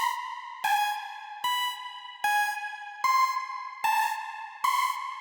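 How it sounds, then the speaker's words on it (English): Heavily detuned supersaw synth playing a melody of seven bright, buzzy sustained notes in a steady rhythm, each starting sharply and ringing with a thick, shimmering, chorused tone, alone with no voices. "A simple, very detuned super saw."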